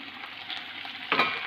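Amla and fresh coriander leaves fry in a pan for chutney, giving a steady close sizzle with a louder, brighter crackling burst near the end.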